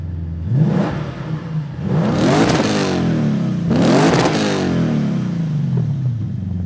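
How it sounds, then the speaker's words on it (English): A 2008 Lexus IS F V8 engine revs twice in sharp, loud bursts, each climbing and falling back, over a steady idle, close by and with no talking. "Because the engine is actually why we're here."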